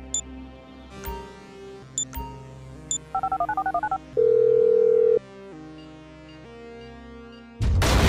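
A phone is dialed in GTA 5. A few separate taps and beeps lead into a rapid run of dialing tones, then a long steady tone, then a burst of noise at the end.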